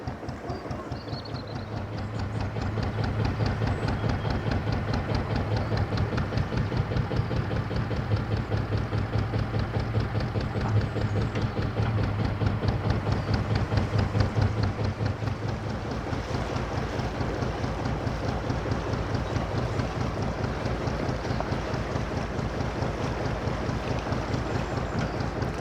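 A canal narrowboat's diesel engine chugs steadily in reverse as it edges through a bridge, a continuous low throbbing rumble that stays loud and close throughout with some wind noise and no talking.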